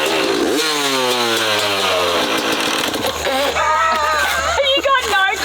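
Motorcycle engine on a bike-build project catching after a kick-start, then idling and revving in uneven bursts, loud and close, with voices talking over it.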